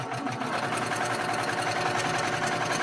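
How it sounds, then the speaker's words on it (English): A sewing machine stitches down a quilt top, its needle running in a fast, even mechanical chatter that stays steady and close throughout, with no talking. "I'm ready to just go and sew this down"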